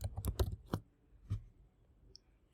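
A few keystrokes on a computer keyboard while a name is typed into a code editor search, giving a short irregular burst of close clicks that then trails off into near silence.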